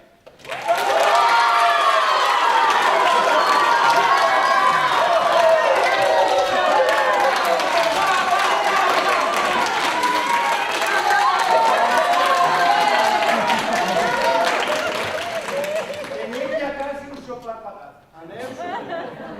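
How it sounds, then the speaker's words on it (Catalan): A large crowd at a Valencian audiovisual awards gala applauds and cheers in a dense, sustained roar for about fifteen seconds before it thins out, with voices mixed through it. "Com seria eixe aplaudiment?"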